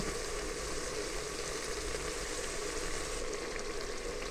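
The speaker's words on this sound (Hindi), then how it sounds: "10 से 15 मिनट हम इसको भूनेंगे" Masala for black chickpea curry frying on medium heat gives a soft, steady sizzle and crackle that runs faint and continuous throughout, with no voices.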